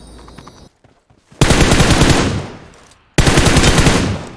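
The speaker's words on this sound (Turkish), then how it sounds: "Bot gerçek adamı sıkıyor." Gunfire from a bot in the video game PUBG Mobile: two loud, close bursts of rapid automatic fire, each lasting over a second and separated by a short pause.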